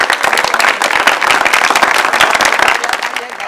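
Studio audience applauding the entrance of actor Ayub Khoso, a dense, loud burst of many hands clapping continuously and close.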